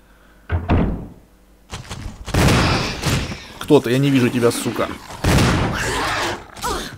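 Shotgun blasts from the video game Resident Evil HD Remaster boom loudly in bursts amid other game sounds, while someone talks over them.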